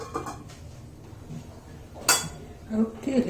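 A metal lid set over a cooking pot of cauliflower paneer curry, a short bright clang near the middle with a few lighter clinks after it, heard close against quiet kitchen background and faint speech.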